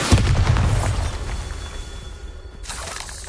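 The Bombarda spell in Hogwarts Legacy goes off with a loud, shattering boom at the start, then a rumbling debris tail that trails away, with a brief crackle near the end.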